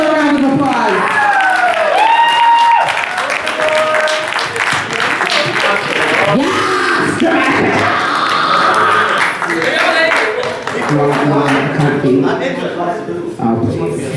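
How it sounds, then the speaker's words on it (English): An audience at a ball breaks into applause and cheering, with a loud crowd roar running all the way through and voices shouting and talking over the clapping. "Give her a round of applause."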